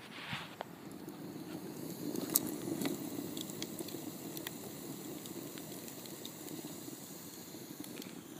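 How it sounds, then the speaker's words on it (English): Wet wood burns in a small brick rocket stove, giving a faint, continuous sizzling hiss with scattered soft crackles and pops throughout. "Hear that moisture sizzling out of the wood."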